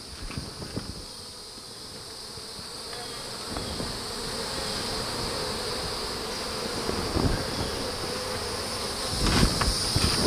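Honeybees in an outdoor bee yard give off a dense, steady buzzing swarm sound, near and continuous, with occasional louder passes of individual bees and some light handling noise.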